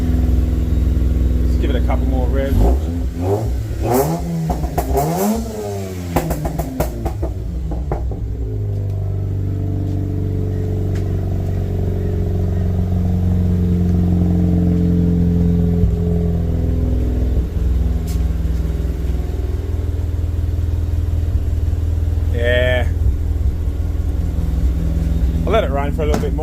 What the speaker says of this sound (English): Let's give it a couple more revs.